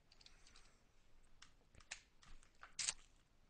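Quiet, close keystrokes on a computer keyboard, a handful of scattered light clicks tapped at an uneven pace, one slightly louder press near the end, in an otherwise silent room.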